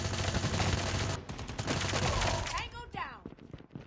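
Rapid bursts of Razorback gunfire in a Call of Duty match rattle out loud and close, with dense repeated shots dropping into sparser cracks near the end, over busy game noise.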